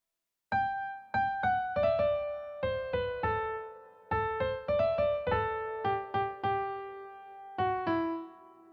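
Solo piano playing the first verse of a song, with single notes and chords struck at an unhurried, even pace, each decaying before the next, clear and close with no talking.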